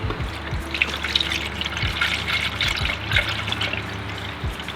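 Coolant poured through a funnel into the engine of a 2005 Subaru STI, a close gurgling trickle with irregular glugs and drips.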